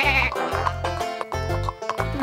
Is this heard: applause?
no